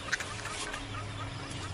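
Chickens cluck faintly around a campsite in the morning after scattering a trash bin, a few soft clucks over steady outdoor background noise.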